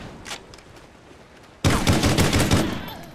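Semi-automatic rifle fire in the shooter game Warzone: after a quiet stretch with faint clicks, a loud burst of rapid close shots with sharp cracks and ringing echo.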